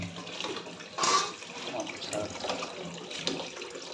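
Tap water runs continuously into a vessel to cool boiled amla, a close, steady splashing rush with a brief louder surge partway through.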